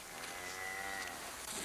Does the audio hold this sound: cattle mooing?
yes